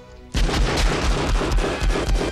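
Gunshots from the 1988 action film Die Hard, a sudden loud burst of rapid, booming gunfire erupting after a brief quiet moment and continuing in dense, repeated blasts.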